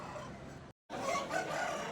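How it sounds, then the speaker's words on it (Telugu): A rooster at a country chicken market in Bandar near Vijayawada crows loudly and close by, its call broken by a brief silent gap. "కోడి మంచి హుషారుగానే ఉంది"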